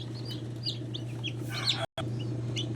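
A second batch of newly hatched chicks peep in high, scattered chirps while chickens cluck nearby over a steady low hum, with a brief dropout partway through.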